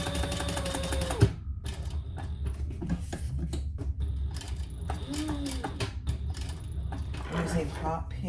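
A sewing machine stitching all the way around a piece with hot pink thread at stitch length 4: short runs of mechanical whirring mixed with clicks and handling noises, with some voice sounds underneath.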